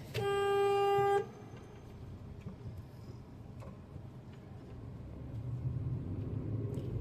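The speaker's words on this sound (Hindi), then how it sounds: "हॉर्न भी ऐसे गुस्से में बजाते हैं ना" A single loud car horn blast lasting about a second, followed by low traffic rumble and faint ticking.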